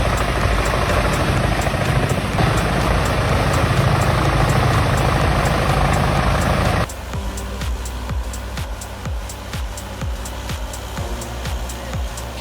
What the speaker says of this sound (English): The JCB 3CX 2000 excavator with its powerful engine roars as it tries to topple a massive tree.